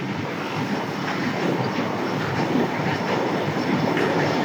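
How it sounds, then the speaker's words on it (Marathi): An Indian Railways train runs past on the tracks, making a continuous loud rumble and rattle of wheels for the full few seconds, with no talk over it. "Indian railways"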